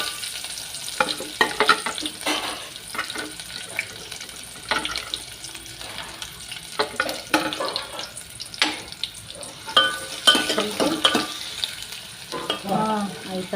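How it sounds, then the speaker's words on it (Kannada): Onions tossed in a pan with bay leaf for a Kannada-style dalcha sizzle steadily while being stirred, with scraping and clinking strokes and occasional running-water sounds, close and moderately loud with no talking. "ಸ್ವಲ್ಪ ಫ್ರೈ ಮಾಡ್ಕೊಂಡ್ರಿ ಎಲ್ಲ ಕೆಂಪಾಗಿ, ಸ್ವಲ್ಪ ಬ್ರೌನ್ ಕಲರ್ ಬರುವಾಗ"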